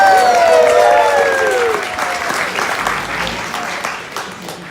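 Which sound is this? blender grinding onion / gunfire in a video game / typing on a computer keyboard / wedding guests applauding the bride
wedding guests applauding the bride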